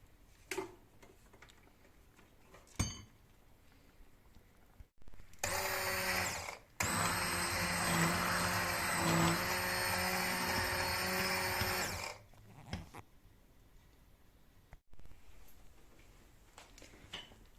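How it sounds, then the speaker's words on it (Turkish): A blender whirs loudly and steadily for several seconds as it purees boiled vegetables for squash soup, starting with a short burst, then running continuously before cutting off, surrounded by quiet kitchen clicks. "Haşlanan sebzelerimizi iyice yumuşadı blenderdan geçirelim"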